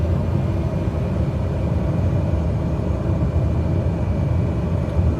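A steady low drone from an airplane engine at very low throttle during a landing approach in Flight Simulator 2020, a constant even rumble with no change in level and no voices.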